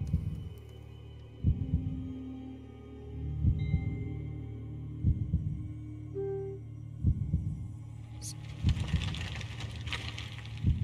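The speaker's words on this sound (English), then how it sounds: "Hopefully the heartbeat will go down." Regular low thumping heartbeat effect from the Minecraft game Decked Out 2, pulsing roughly every one and a half seconds over a steady hum, with a brief high chime and hiss near the end.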